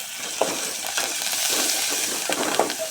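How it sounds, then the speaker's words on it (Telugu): Turmeric and ginger frying in a pan, a steady moderate sizzle with a few light clinks of stirring or scraping scattered through, and no talking. "కొంచెం వేయించుకోవాలి"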